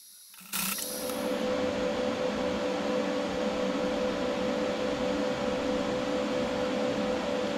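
A welding bead is run along a VW split bus body panel: after a moment of quiet, a loud, continuous crackling hiss with a steady electrical hum starts abruptly and carries on evenly to the end.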